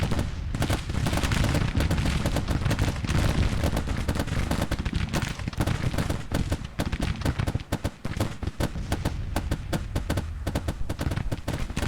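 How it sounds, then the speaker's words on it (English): Artillery and massed rifle fire in Grand Tactician Civil War, with dense, continuous volleys of sharp cracks and heavy booms rattling nonstop at close range. "Looks like our big guns are firing from up top"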